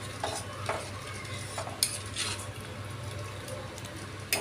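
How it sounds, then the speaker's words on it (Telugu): A spoon stirs tamarind pulusu stew in a pot, with repeated scraping strokes against the metal every half second or so over a soft background simmer. "ఈ పులుసు పోసుకొని ఒకసారి మంచిగా కలిపేసుకోవాలి మొత్తం"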